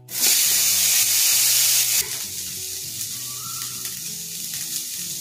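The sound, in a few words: potato frying and sizzling in oil in a wok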